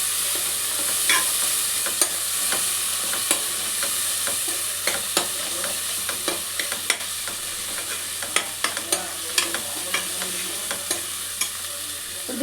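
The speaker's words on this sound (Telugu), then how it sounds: "ఇది మంచిగా పచ్చివాసన పోయే వరకు వేయించాలి." Ginger-garlic paste with turmeric fries in hot oil with a steady sizzle, punctuated by sharp clicks and taps of a spoon stirring against the pan, close and continuous with no voices.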